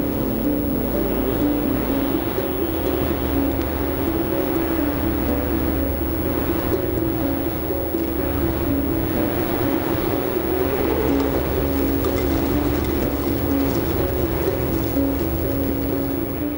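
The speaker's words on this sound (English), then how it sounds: "On this spring day, the wind reaches 35 miles per hour" Strong spring wind of about 35 miles per hour roars without pause at an exposed mountain observatory, a loud, dense, continuous rush with a low rumble that builds and eases slightly, and no voices.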